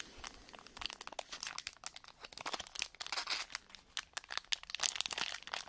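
Foil Panini Chronicles 2020 NFL football trading card packs are torn open by hand, producing close, continuous crinkling and ripping bursts of varying intensity without speech.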